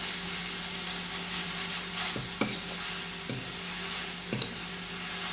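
Cooked greens curry (cheera) being stirred in a pot, with a soft continuous sizzle and steam hiss broken by a few sharp scraping knocks of the spoon against the pot.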